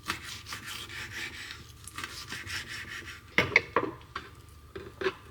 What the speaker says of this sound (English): So I'm gonna cut this really quick, probably using entirely the wrong knife for this